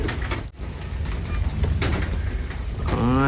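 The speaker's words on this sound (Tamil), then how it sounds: "மழை பாரு தண்ணி பாரு" Steady broadband hiss of heavy rain pouring down, with a brief dip and a faint rising tone near the end.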